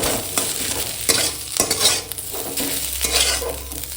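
A dry potato and prawn dish with green chilli and onion is stirred in a hot pan, with a continuous sizzle, repeated scraping strokes of a utensil against the metal and occasional clanks, close and loud, without speech.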